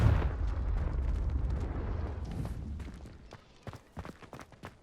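The Confringo fire spell detonates in Hogwarts Legacy on Xbox Series X: a heavy, rolling explosion that rumbles for a few seconds, fades, then gives way to scattered sharp clicks and light footstep-like taps.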